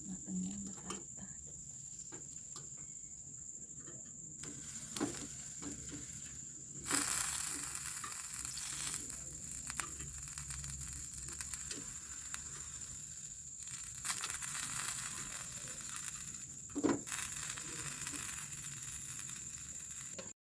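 Goat satay skewers sizzle steadily on a grill, a faint continuous crackle with a few louder pops, under a steady high background hum.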